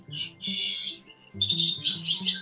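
An Asian pied starling (jalak suren) sings a varied song of bright whistled and chattering phrases in two bursts, with steady lower tones humming underneath throughout.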